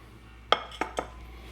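A hot cake pan for a keto Kentucky butter cake is lifted and swirled, giving three quick metallic clinks and knocks in a row, close and fairly light against a quiet kitchen background.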